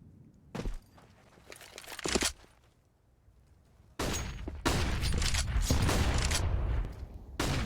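Grenade blast and burning molotov flames in a CS:GO match between OG and Ence on Dust 2, with bursts of gunfire and loud crackling fire that swells at the end, no talk.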